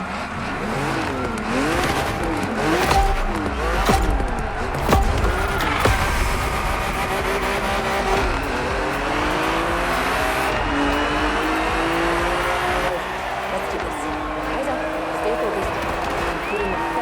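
BMW M racing car driven in The Crew Motorfest, engine revving and shifting through gears with tire squeal, loud and continuous under ongoing commentary from a speaker.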